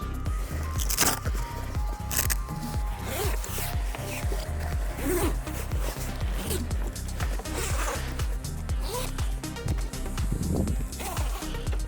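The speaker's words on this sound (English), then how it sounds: "So I'm going to unzip it and try feeding it in, and then zip the canvas back onto it." Canvas of an iKamper rooftop tent being unzipped: a steady run of rapid, scratchy zipper clicks and tugs, close and fairly loud, continuing for about twelve seconds with no talking.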